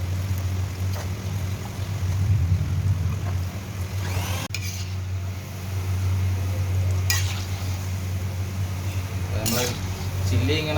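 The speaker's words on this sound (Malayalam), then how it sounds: "ചില്ലി ഇങ്ങനെ ഫ്രൈ ആയിട്ട് വരുന്നുണ്ട്." Cauliflower chilli frying in a pan, a steady sizzle with occasional metallic scrapes and clinks of a utensil against the pan, continuous throughout.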